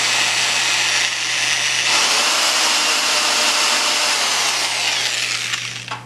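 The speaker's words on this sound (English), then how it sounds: "The reason I'm doing the multiple different size drill bits is because we're drilling to the end of this." Power drill boring a hole into a wooden dowel for a DIY tripod extension arm, a steady loud whirring grind that runs the whole time, tapering off at the very end.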